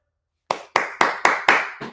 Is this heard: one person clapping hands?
yes